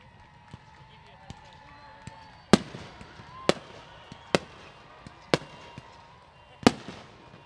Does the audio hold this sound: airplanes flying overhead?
no